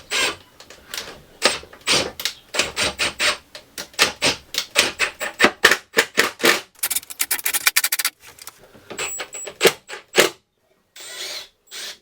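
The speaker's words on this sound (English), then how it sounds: "I'm just screwing the drawer front on." A drawer front being screwed on during a camper van shower room build, with a rapid series of sharp clicking, ratcheting bursts close up, like a driver working in short runs, with brief pauses between.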